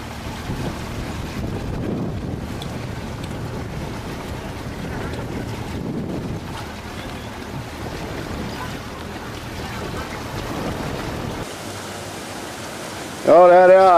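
A boat comes in on open water near a large hot tub, with steady wind buffeting the microphone and broad wash noise throughout, then a brief louder tonal burst near the end.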